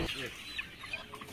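Chickens cluck and murmur in a poultry house during harvest as birds are herded into a pen, a low continuous flock chatter with scattered louder clucks.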